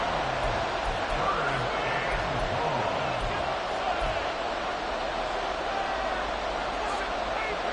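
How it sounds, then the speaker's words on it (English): Stadium crowd roaring in an EA Sports football video game late in a tied match, a sustained loud wall of cheering and babble throughout, with commentary-like voices mixed underneath. "This crowd turning up the decibel level."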